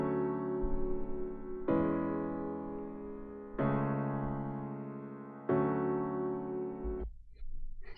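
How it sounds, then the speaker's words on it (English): Synthesized chords play a progression with new voicings, four sustained harmonic-rich chords each held about two seconds in a steady, even rhythm, alone and fairly loud, ending with a softer tail. "So now the chord progression sounds like this."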